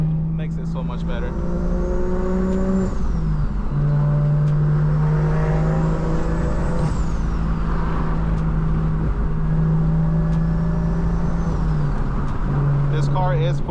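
A single-turbo BMW F80 M3 engine under way, a loud steady drone with rising and falling revs, turbo whistle and blow-off flutter, while a person talks over it from inside the car.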